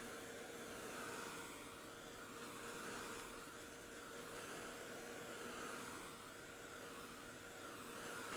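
A hair dryer blowing steadily on a painted art journal page, a close, continuous airy whoosh with a faint motor hum and slight swells as it moves across the paper.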